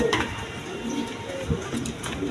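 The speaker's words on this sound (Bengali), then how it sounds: "এখানে এক পেয়ার কবুতর আছে" A pair of Kaldom pigeons coo softly and low at close range, a few faint murmuring calls over a steady background hum.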